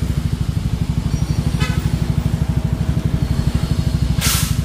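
A Suzuki Sky Wave 125 scooter with a stainless racing exhaust idles with a steady, rapid throaty putter, close and loud, plus a short hiss near the end.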